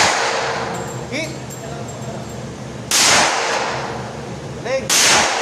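A .45 caliber Rock Island 1911 pistol fires two loud, sharp shots a couple of seconds apart at an outdoor range, with ringing echoes and people talking in the background.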